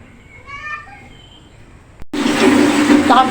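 Water poured into a wok while cooking ginataang talbos ng kamoteng kahoy: after a quiet stretch with a brief voice, a sudden loud rushing splash of pouring water fills the second half.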